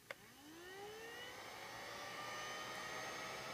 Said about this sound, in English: I like using a heat gun. It's like a glorified hair dryer.